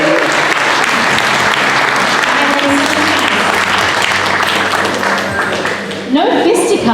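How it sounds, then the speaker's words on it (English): A conference audience at a Bitcoin panel applauds the panelists, with dense sustained clapping from a large crowd filling the room, fading slightly near the end before a brief swell. "could you just give them a round of applause for being here?"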